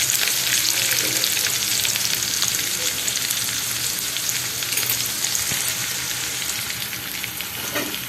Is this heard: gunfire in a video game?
no